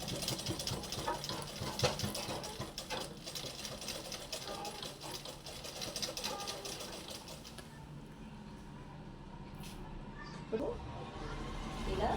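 A sewing machine stitches the seams of a long frock, whirring steadily with a fast mechanical needle clatter close by, then slowing and fading toward the end.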